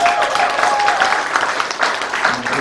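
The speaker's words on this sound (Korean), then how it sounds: "큰 박수 부탁드립니다." Attendees at a Rotary club workshop give a round of applause after a donation is announced. The clapping is moderately loud and even, with faint voices and a brief tonal hum beneath it.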